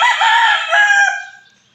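A rooster crows loudly and close by, one long sustained call that trails off near the end, heard alone with no talk.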